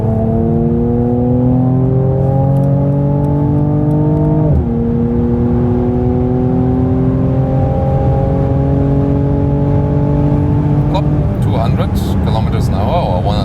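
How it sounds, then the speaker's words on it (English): A Mercedes-AMG C43 C-Class accelerates hard at full throttle, heard from inside. Its engine note climbs steadily and loudly, drops sharply at two gear changes, then rises again each time. "it's an AMG, so let's floor it out"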